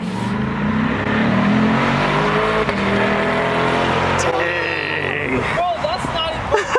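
A 2020 Chevrolet Corvette C8 accelerates past in a flyby, its engine roaring loudly with rising harmonics and then fading as it moves away. Voices talk over the sound and exclaim near the end.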